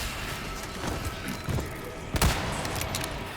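Gunfire in Resident Evil 4 Remake: a few dull thumping shots over busy game ambience, with one sharp, louder blast near the end.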